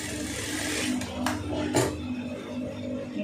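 A sewing machine runs along the folded hem of an old-style blouse, producing a steady, close motor whir with faint mechanical ticks and a brief louder burst midway.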